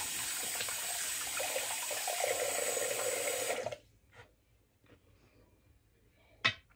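Warm water gushes from a bathroom tap for a straight razor shave, a loud steady rush for several seconds that cuts off abruptly, leaving quiet with a few small clinks.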